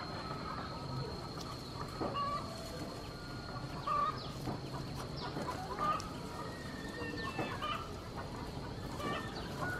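Captive decoy bird fed on fish, calling from a raised perch near rice fields in Nghĩa Lộ, Yên Bái, with short repeated clucking calls and a few sharp whistled notes spaced across a quiet outdoor background.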